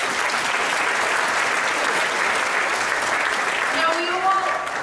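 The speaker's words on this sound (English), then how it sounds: "So let's give them a big round of applause." Audience applause at a New York City Council Pride event, a dense, steady roar of clapping held at even loudness throughout, with a voice beginning to speak over it near the end.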